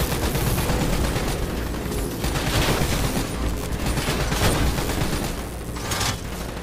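Rapid, sustained gunfire from a gun in Call of Duty: Black Ops 3 on Xbox, loud and close, with dense overlapping shots and booms filling the whole stretch without talk.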